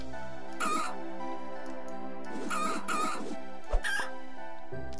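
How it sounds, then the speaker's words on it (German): Short, harsh squawking calls from a chicken in the video game Planet Centauri, three or four separate bursts spread across a few seconds, alone with no talking and a small click near the end. "Ist das ein gezähmtes Huhn?"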